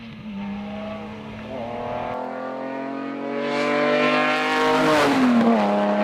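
Jaguar E-Type sports car racing through the tight centre section of Gurston hillclimb, its engine note climbing through the gears with a shift midway, then surging louder and higher as it passes close by.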